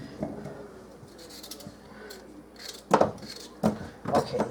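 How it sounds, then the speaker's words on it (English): A dull kitchen knife chops through a thick potato in a few separate crisp cuts and clacks on the board, close and fairly loud, with the last three coming in quick succession. "That's a thick potato. I need to sharpen my knife"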